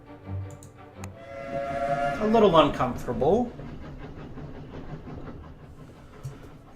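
A train whistle rises and falls over the low rumble of a rolling train in the game 80 Days, a wavering tone in the middle while someone speaks briefly over it.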